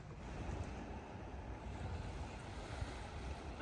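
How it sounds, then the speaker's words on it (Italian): Sea waves washing onto a Tuscan shore, a steady broad rush with wind across the microphone, faint and continuous, with no talking. "non è il lago, è il mare."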